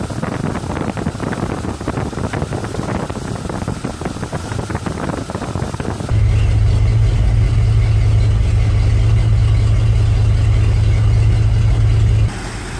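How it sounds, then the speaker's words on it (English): Wind noise for about six seconds, then a car engine with low fuel pressure and a blocked vent line turns over and settles into a loud, steady idle that runs until it cuts near the end. "I'll start the engine"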